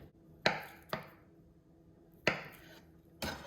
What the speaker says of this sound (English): So the spam I'm gonna cut it in half and use only half of it, and just slice it